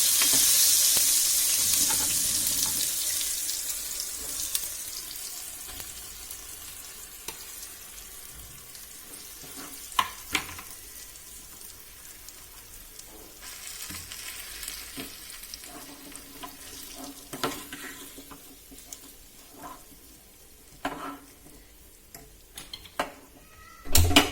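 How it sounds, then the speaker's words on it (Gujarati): Onions frying in a pan for pav bhaji, a steady hissing sizzle throughout with occasional clinks and scrapes of a utensil against the pan. "હવે આપણે ડુંગળી કરી દઈશું."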